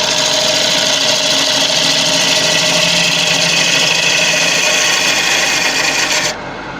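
A sharpened gouge takes a finish cut on a deep Malaysian acacia bowl spinning on a woodturning lathe, giving a steady, close rasping hiss that runs unbroken for several seconds before easing off near the end.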